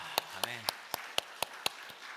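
A church congregation at a Monday intercessory prayer meeting claps in a steady, even rhythm of about eight sharp claps, each cleanly separated, after a brief voice at the start.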